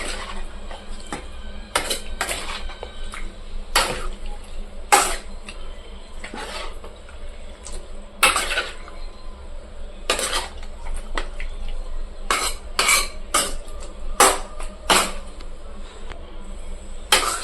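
A spoon scraping and knocking against a pan while chicken curry is stirred, with sharp metallic strokes every second or two over a low, steady background hum and no talking.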